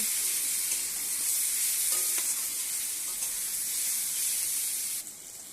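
Turmeric, cumin and Kashmiri chilli powder frying in hot oil for a fish and aubergine curry, giving a steady, loud sizzle and hiss with faint stirring scrapes, easing off near the end.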